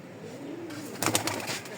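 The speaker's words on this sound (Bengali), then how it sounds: "কবুতর, এগুলো হলো কবুতর।" Racer pigeons coo softly at a home loft, a low murmuring call under quiet background hiss, with a brief brighter rustle of movement partway through.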